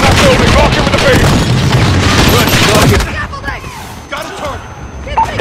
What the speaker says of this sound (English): Guys, put a hellfire on that building!